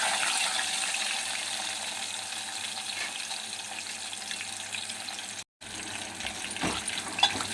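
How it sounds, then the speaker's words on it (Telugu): Onion pieces fry for a curry in a pan, a steady broad hiss and sizzle that carries on with little change, briefly cut off once, with faint clinks near the end. "ఇప్పుడైతే ఉల్లిపాయ ముక్కలు వేసుకున్నా. అవన్నీ ఫ్రై అయ్యేదాకా అయితే వేసుకున్నా."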